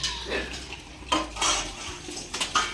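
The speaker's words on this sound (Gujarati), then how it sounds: "અહીંયા જો વાસણ અટકવાનું કામકાજ ચાલુ થઈ ગયું છે" Metal pots and utensils clink and clatter repeatedly while being scrubbed and washed, close by, with occasional louder knocks.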